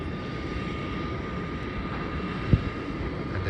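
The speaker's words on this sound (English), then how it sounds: "there's a flight from Sydney that just landed now. And that is a Virgin Australia Boeing 737." A Virgin Australia Boeing 737 airliner landing after a flight from Sydney, heard as a steady, broad engine roar at a distance with a faint tonal whine and no talk.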